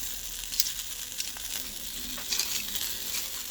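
Large dried fish frying in a pan with a little oil: a continuous crackling sizzle with scattered sharper pops, close and steady throughout.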